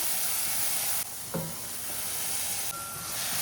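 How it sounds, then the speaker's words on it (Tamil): Ground tomato sautéing in a pan for tomato rasam, a soft continuous sizzle with a brief scrape of stirring partway through and a faint tonal beep near the end. "இப்போ இந்த தக்காளி லைட்டாக வந்துட்டு வதங்கட்டும்"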